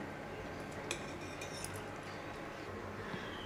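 A spoon stirs fish curry with fresh coriander in a pot, giving faint, scattered metal clinks and soft scrapes against a quiet background.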